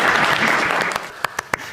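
Applause from a church congregation, dense clapping that thins out into a few last scattered, separate claps.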